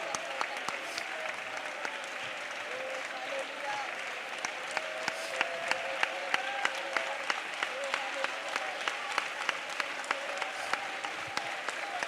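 A church congregation at a prayer centre applauds steadily, a dense sustained clapping that fills the space, with a voice faintly heard through it.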